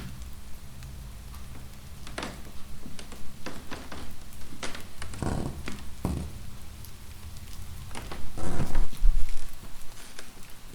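Rain falls around a quiet house, a soft steady patter with scattered sharper drops and thuds, swelling slightly louder near the end.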